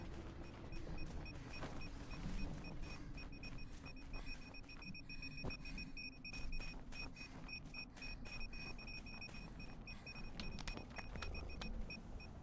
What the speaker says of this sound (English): Beep beep beep beep beep beep beep beep beep beep beep beep beep.